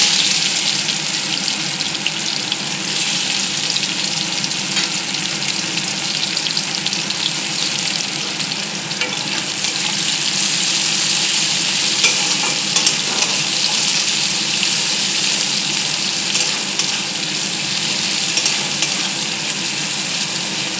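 Chopped onions frying in a pan for mutton curry, a steady close sizzle with intermittent scraping and stirring throughout, no voices.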